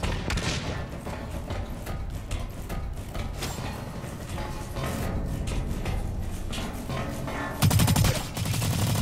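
Dense gunfire fills a Blacklight: Retribution match, with continuous overlapping automatic shots and bursts and a heavier blast near the end, loud and busy with no talk.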